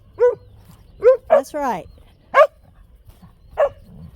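Jet, a guard dog in a yard, gives five sharp close barks spaced about a second apart. Someone talks between the barks.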